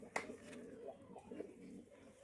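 Rajshahi local Giribaz pigeons coo softly, a few low, throaty bubbling calls with a short sharper note at the start, faint and close by in a quiet setting.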